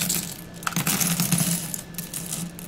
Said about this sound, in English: So many buttons. Oops, dropped one.